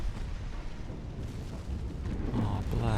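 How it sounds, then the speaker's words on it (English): A ship explodes in a naval warfare video game, a loud continuous rumbling roar of blasts and booming that swells and thickens toward the end, with a faint low tone entering over the rumble. "That's a nice explosion on your ship"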